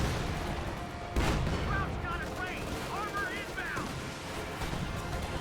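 Artillery and gunfire rumble steadily through a Company of Heroes 2 battle on the Western Front, with one sharp blast early and a dense wash of explosions alongside faint whistling shells throughout.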